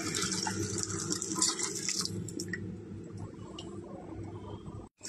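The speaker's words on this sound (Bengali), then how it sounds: "ডালে আমি গরম জল দিয়ে দেবো।" Hot water poured into cooking dal for a Bengali mulo dal, a steady liquid splash and gurgle that stops after a few seconds, close and fairly quiet.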